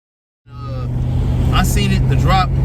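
A car pulls away into traffic, starting abruptly with a steady low engine drone and road rumble, with brief higher whooshes from other passing vehicles; no talk is heard.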